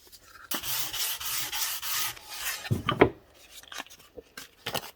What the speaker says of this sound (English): It's like a nice easy way of just taking some sandpaper on it